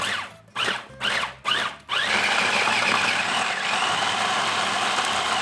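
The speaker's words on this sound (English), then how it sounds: "Then we need to blend. This is going to be loud." A blender motor pulses in three short bursts, then runs continuously at a loud, steady whir with a grinding edge.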